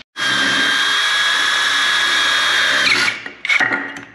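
A Caterpillar DX13 cordless power drill in drill mode whines at a steady high pitch for about three seconds, then stops, followed by a couple of short bursts and clatter.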